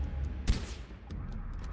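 One sharp gunshot from the Far Cry 4 video game cracks out close and loud, then a short rumbling tail fades under low game ambience.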